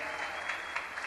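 A church congregation gives a loud round of applause in thanks after a sermon, dense and continuous clapping with a few sharper peaks throughout the brief moment.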